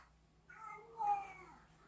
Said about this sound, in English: That was my cat. Pretty special noise,